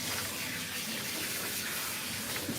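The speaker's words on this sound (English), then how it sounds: "Get that all rinsed out." Water from a faucet or sprayer rinsing a Persian cat during a bath, a steady close hiss of running, splashing water throughout the short stretch, with no voices.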